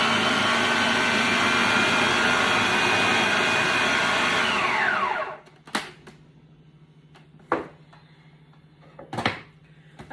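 Blender whirring through a chocolate peanut butter protein mix with cocoa nibs, a loud steady motor drone that winds down and stops halfway, followed by a few sharp knocks and clatters against a low hum.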